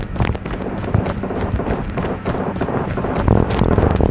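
M16 automatic rifle fire in a team battle video game: rapid, evenly spaced loud bursts rattle continuously throughout, close and dense.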